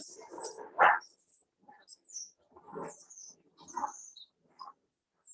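Bright, high bird chirps and short calls come in scattered bursts over faint rustling, fairly close and clear.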